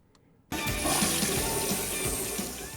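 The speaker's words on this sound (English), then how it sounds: "And we begin with the sound of a toilet flushing." A toilet flushes in the film Madhouse: after a brief quiet moment, a sudden loud rush of water bursts in and keeps churning and gurgling steadily to the end.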